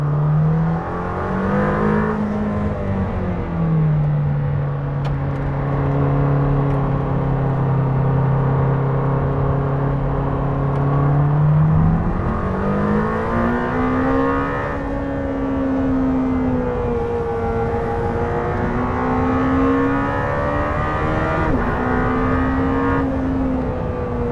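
A Lamborghini Temerario hybrid laps a Formula 1 circuit, its engine note droning loud and steady from the cabin, the pitch sliding up and down through acceleration and gear changes with no break.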